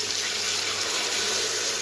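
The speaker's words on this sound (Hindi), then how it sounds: "अब हम इसमें 1 गिलास पानी ऐड कर देंगे" A glass of water pours into a karahi of browned mutton and masala, a steady, close splashing rush that lasts the whole moment with no voices.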